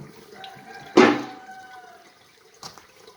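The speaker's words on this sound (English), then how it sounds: "And you just pour this through the filter" Fresh cow's milk is poured through a filter into a jug: a brief, close liquid splash, then a fading trickle in a quiet room, with a faint knock near the end.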